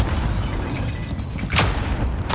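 Grenade blast in Call of Duty Warzone: a low continuous rumble with one sharp close burst partway through, and no talk over it.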